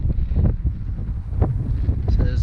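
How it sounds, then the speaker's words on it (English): Strong outdoor wind buffets the microphone in rough, uneven gusts and low rumbles on a chilly day, with a few brief louder bursts. "And it's super windy."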